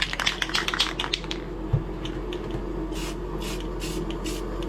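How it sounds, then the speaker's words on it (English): Chrome part of a taped-off Q50 headlight gets spray-painted from an aerosol can: a few faint taps and clicks come first, then four short, close hissing bursts of spray at a steady rhythm. "I'm just spraying the chrome part."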